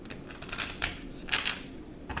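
Tarot cards being shuffled by hand, several soft papery riffles and slides, close and quiet, with no voices.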